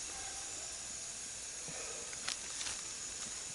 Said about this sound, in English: It's starting to fry there. You can hear that cast iron popping a little bit.